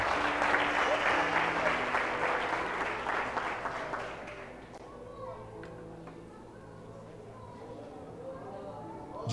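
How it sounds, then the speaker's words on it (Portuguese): A church congregation at a family worship service claps in a dense burst that fades after about four seconds, leaving scattered claps and murmuring voices in a reverberant room. "Aplauda Jesus e fica de pé."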